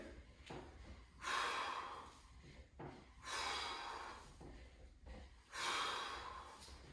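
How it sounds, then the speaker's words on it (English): Strong exhalations during a TRX bicep curl exercise, three forceful breaths out at regular intervals, each followed by a quieter intake, close and faint. "breathing out as the hands are coming to your chin"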